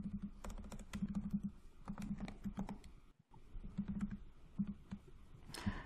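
Fingers typing a role name on a computer keyboard, giving quick irregular clusters of light key clicks with a brief pause midway, close and fairly quiet.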